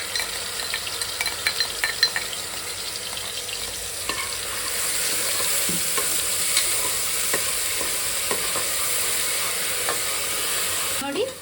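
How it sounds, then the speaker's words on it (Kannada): Onion paste frying in hot oil for a hyacinth bean sambar, a steady close sizzle with scraping stirs and occasional spatula knocks throughout, no voices. "ಈ ಪೇಸ್ಟ್ ಹಾಕ್ಕೊಂಡು ಸ್ವಲ್ಪ ಚೆನ್ನಾಗಿ ಇದು ಕೆಂಪಗಾಗೋ ಥರ ಈ ಪೇಸ್ಟ್ನ ಫ್ರೈ ಮಾಡ್ಕೊಳ್ಳೋಣ"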